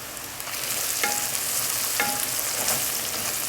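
Onions frying in a pan for a home-cooked meal give a steady, close sizzle that stays loud and even throughout, with a few brief clinks of a utensil stirring against the pan.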